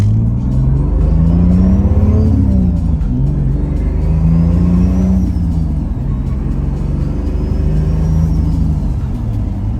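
A Toyota Supra with a turbo accelerates hard on the road, its engine droning loud and close as the pitch climbs through several rising sweeps between gear changes, with a faint whine above.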